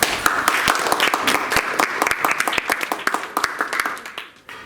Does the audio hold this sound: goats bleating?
no